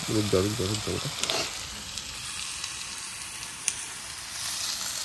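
Garlic and ginger paste hits hot oil for a chicken curry, sizzling loudly at first with stirring clatter, then settling into a steady frying hiss; a brief voice is heard early on.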